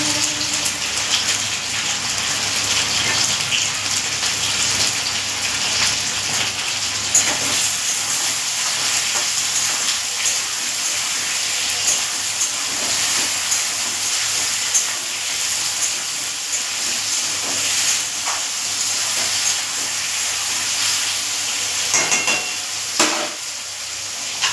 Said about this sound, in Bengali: আলুটা একটু বেশি সময় ভেজে নেব।